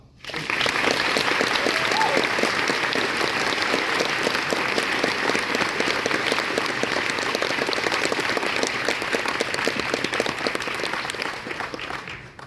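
Sustained audience applause at the Eurofurence 28 convention opening ceremony, a dense wash of many hands clapping that rises quickly, holds strong for about ten seconds and then tapers, with crowd voices mixed in.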